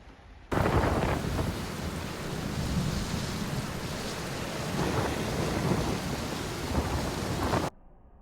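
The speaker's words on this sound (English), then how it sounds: "it rained for days." Heavy rain pours steadily on a boat yard with rolling rumbles of thunder swelling and fading throughout, loud and close, cutting in and out abruptly at both ends.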